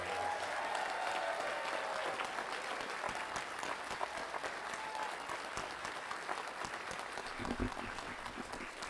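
Sustained, dense applause from a large audience honoring bachelor's degree graduates at a spring graduation ceremony, steady and fairly loud throughout without pause.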